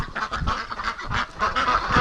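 Domestic ducks kept for breeding give a run of loud, close honking quacks in uneven bursts while being shooed out of a back shed.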